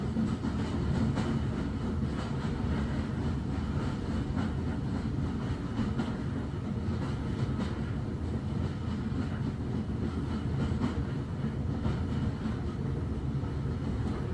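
Train carriage rolling across a viaduct, a steady low rumble with faint rhythmic rail clatter, continuous and moderately distant, no voices.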